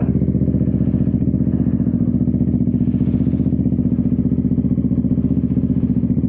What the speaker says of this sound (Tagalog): cold start tayo ng ating motor.